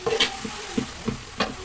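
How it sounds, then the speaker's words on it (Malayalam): Ground fennel (big cumin) powder being stirred in a frying pan for a home-cooked meal, with a few distinct scraping strokes of the spoon against the pan over a low sizzle, close and alone without talk. "നമ്മളത് നല്ലോണം ഇളക്കി കൊടുക്കട്ടെ."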